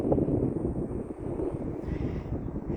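Steady low rumbling wind buffeting the microphone, loud and continuous throughout, with no voices.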